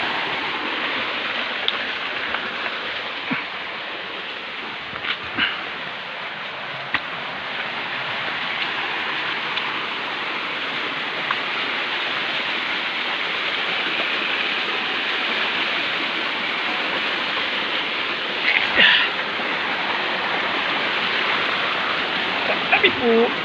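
Water flows through a forest in a steady, loud broadband rush, with a few faint clicks and knocks, and no voices over it.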